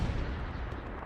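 An explosion roars in Hell Let Loose during a tank battle, a dense, loud, sustained boom filling the whole second with heavy rumble.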